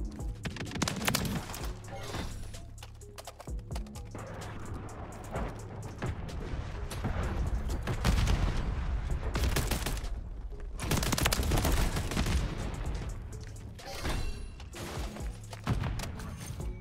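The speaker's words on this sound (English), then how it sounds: "See right there, it kills in 3 bullets, but like I'm so close to him. And I understand it's a shotgun" Riveter shotgun fire in the video game Modern Warfare 3 booms in dense, repeated blasts over a constant layer of game sound and music, loud and continuous throughout.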